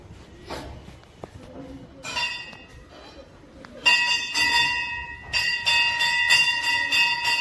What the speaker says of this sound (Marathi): घंटी वाजवत आहे.